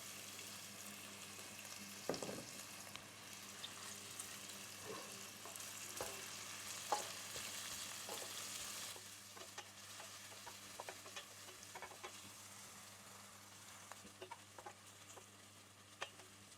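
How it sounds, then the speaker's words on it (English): Onions sautéing in olive oil, a soft, steady sizzle with scattered spoon taps and scrapes, faint and fairly distant, running without any voices. "let's saute the onions a little bit first"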